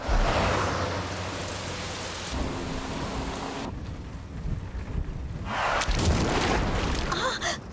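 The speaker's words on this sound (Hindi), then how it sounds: "अरे बाप रे, कितनी तेज बारिश है।" Heavy rain pours steadily during a city storm, with rumbling thunder and gusts of wind buffeting the microphone.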